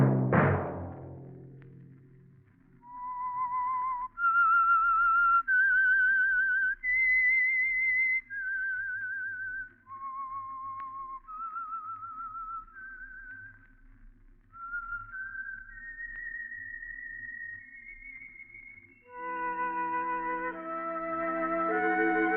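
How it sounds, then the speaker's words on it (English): A lone whistled melody of clear, sustained notes rising and falling, preceded by a brief low thud, with faint background hum: the closing theme of the 1947 radio drama The Whistler. "Let that whistle be your signal for the Signal Oil program"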